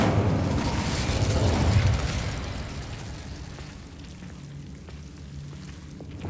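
The Incendio fire spell is cast in Hogwarts Legacy, a loud roaring rush of flame that gradually fades into a softer crackling hiss, with no talking over it.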